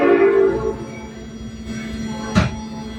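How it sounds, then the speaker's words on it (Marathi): A Chicago Metra commuter train heading toward Aurora passes nearby, with a horn tone at the start fading into rail rumble and a short sharp clank partway through, no talking. "अरोराकडे चालली ती मेट्रो."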